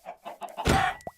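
Minecraft chickens cluck in short, close bursts, followed by a brief louder squawk-like sound, with no talking.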